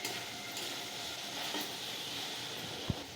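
Bean bhaji (sim bhaja) with cumin fries in a pan, giving a faint, steady sizzle with a soft utensil tap near the end and no talking.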